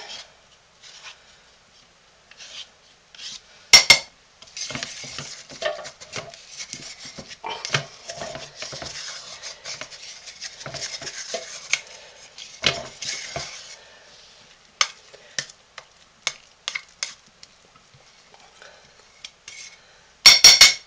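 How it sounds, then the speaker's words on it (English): A spoon stirs a soap mixture cooking in a pot, making soft rubbing and scraping sounds. Sharper clinks of the spoon against the pot come at the start and the end. It is close and quiet, with no talking. "This one here needs a little bit more stirring. Alright, I'll scrape down my spoon."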